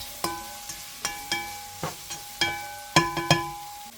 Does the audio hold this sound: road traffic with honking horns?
no